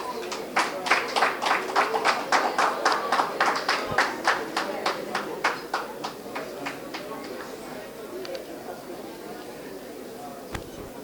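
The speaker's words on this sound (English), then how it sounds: "Shall we give her a round of applause" An audience at a Ghana 63rd anniversary celebration claps together in a steady, rhythmic round of applause that starts strong, gradually thins out and fades away.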